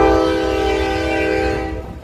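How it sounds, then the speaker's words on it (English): A Union Pacific freight train hauled by five locomotives passes close by, its horn sounding loud and sustained over the deep rumble of the engines, then fading toward the end. "This is going to be a long train."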